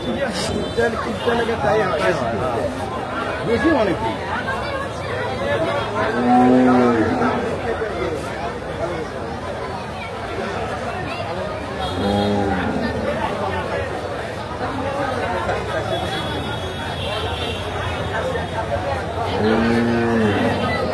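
Cattle moo at a crowded Korbani cattle market, several low drawn-out calls rising over a constant hubbub of people chatting nearby.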